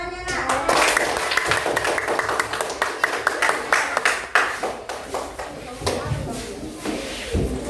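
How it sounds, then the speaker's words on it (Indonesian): Children in a classroom clap together, a fast irregular patter of many small hands that runs steadily for several seconds, with a voice speaking over it near the start. "Kasih tepuk tangannya nak."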